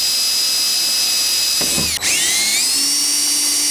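A power drill bores holes for a Corksport wing extension install, whining steadily at high pitch and then dipping sharply as the bit breaks through before spinning back up, loud and close.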